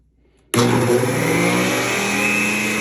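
Juicer machine pressing baby carrots switches on abruptly and runs with a loud, steady motor whine and grinding roar.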